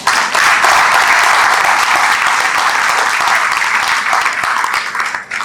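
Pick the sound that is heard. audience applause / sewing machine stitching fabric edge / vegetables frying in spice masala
audience applause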